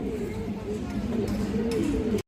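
Pigeons of fancy breeds, including red chulli, coo continuously at a pigeon sale, a low throaty burble up close that fills the clip and cuts out briefly near the end.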